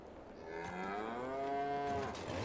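A cow in the farming video game Farming Simulator 22 lets out one long, drawn-out moo that swells and holds over soft background sound, with no talking.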